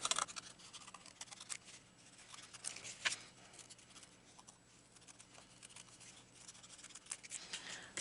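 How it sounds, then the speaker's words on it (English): Scissors snip around small paper shapes in careful close-up fussy cutting for a craft treat holder, giving a faint, soft, scratchy run of small irregular cuts with no talking. "I'm going to fussy cut those out, and it's a real easy fussy cut"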